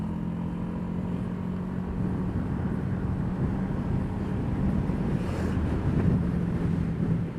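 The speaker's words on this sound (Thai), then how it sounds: "ลมก็แรงครับ วันนี้ เดี๋ยวไม่รู้ว่ามันจะวิ่งโต้ลมหรือเปล่า ลมมันแรงมาก" Strong wind buffets the microphone while riding a Honda PCX scooter on 17-inch wheels with an aftermarket exhaust, a constant low roaring rumble with the engine droning underneath, moderately loud and unbroken.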